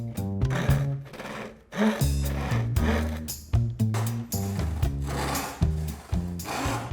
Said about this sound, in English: So I found this piece of wood that we have. It's just like too big, so I'm gonna cut it